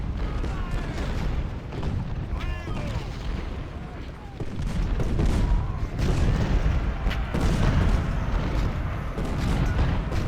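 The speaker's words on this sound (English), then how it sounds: "The last stand of the Union at Cemetery Hill with 400 artillery pieces." Union artillery fire in the Civil War strategy game Ultimate General: Civil War, Gettysburg's Cemetery Hill, with 400 guns firing. A dense, continuous rumble of overlapping booms and distant gunfire, loud throughout and swelling after the midpoint.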